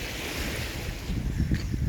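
Steady wash of ocean surf with wind buffeting the microphone, a continuous rushing roar with low rumbling swells and no talking.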